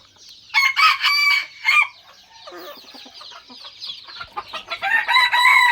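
A young rooster crows loudly nearby, a couple of strained calls, followed by softer clucking and then another rising crow toward the end.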